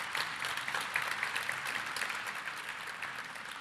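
An audience at a School of Medicine welcome-back soirée applauds the dean, many hands clapping in a continuous, even patter that sounds somewhat distant and soft.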